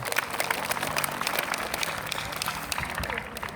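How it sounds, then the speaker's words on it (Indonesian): Audience applause at a school gathering, a dense patter of clapping from many hands filling the room at a steady level. "Tepuk tangan dulu buat teman-teman semua."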